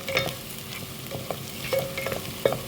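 Onions, shallots, green chilies, ginger and garlic sauté in a pan for Kuttanad-style duck curry, with a soft, close sizzle and repeated scraping stirs; no voices.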